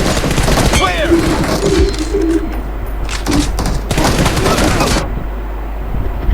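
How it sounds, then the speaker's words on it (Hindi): Gunfire in a PUBG match comes as dense bursts and crackling shots mixed with game ambience, loud and close, while a player talks over it. "फायरिंग शुरू कर दी इन्होंने यार"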